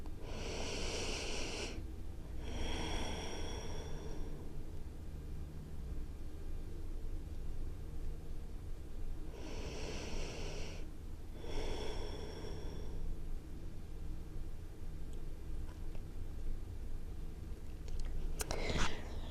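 Slow, deep breathing held in a yoga child's pose during a prenatal stretching session, with two pairs of long airy inhale-exhale swells separated by quiet pauses over a steady low hum.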